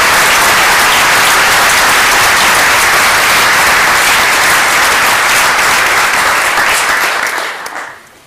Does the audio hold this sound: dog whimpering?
no